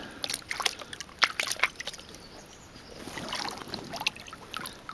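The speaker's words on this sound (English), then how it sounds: "Gradually vibrate and rotate the pan." Water sloshing and trickling in a gold pan being vibrated and rotated while panning for gold, with uneven close splashes and swirls over a soft steady wash, no voices.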